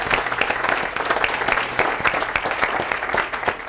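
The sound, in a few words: applause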